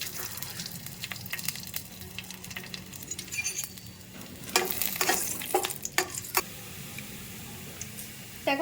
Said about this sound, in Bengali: কড়াইতে আমি তেল গরম করে নিয়েছি আর একটু রসুন কুচো করে নিয়েছি সেই রসুন কুচোটা একটু ভেজে নেবো